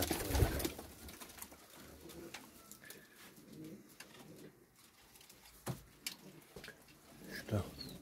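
Pigeons in a pigeon loft, including young Malatya birds, cooing softly nearby alongside scattered fluttering and shuffling, with occasional quiet speech in the background.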